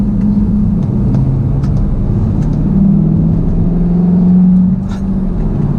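Car engine and road rumble as a car with an SR Performance strut tower brace drives through a curve, a steady loud drone with a slight swell of revving midway and no talk.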